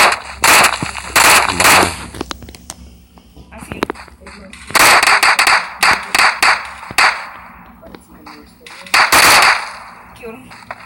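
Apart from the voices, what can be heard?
gunfire in the video game PUBG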